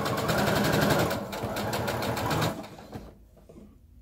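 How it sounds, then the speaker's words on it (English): A sewing machine fitted with a walking foot stitches fabric in a fast, steady mechanical whir, close and fairly loud, slowing and stopping near the end. "We want to line up your walking foot along with the edge of the fabric."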